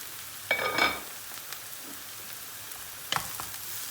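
Onions fry in a covered pan with a soft, steady sizzle, broken by two brief, louder clattering bursts of stirring, close by with no talking.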